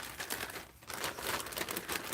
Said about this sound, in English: I'm just going to cut this bag open, I think.